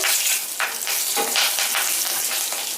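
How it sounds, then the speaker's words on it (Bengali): Black cumin seeds and green chilies sizzle steadily in hot oil, a close, even hiss with light stirring scrapes for a few seconds and no voices. "এই তেলের মধ্যে ফোড়ন দিচ্ছে কালো জিরে কাঁচা লঙ্কা ফোড়নটাকে অল্প একটু নাড়াচাড়া করে নিচ্ছি তেলের মধ্যে"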